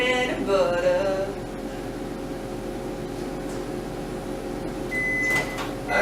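Low steady hum of a microwave oven running with food in a glass container, with brief clatter early on and a short high beep near the end.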